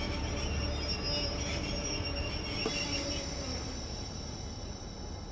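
A train in Train Sim World 3 slows under its locomotive brake, with a steady rumbling roll and a thin, high wheel-squeal whine running throughout at a constant, moderately loud level.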